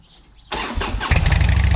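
A 2007 Harley-Davidson Softail Deluxe motorcycle engine cranks and catches at close range after a quiet moment, then settles into a loud, rough, throbbing idle.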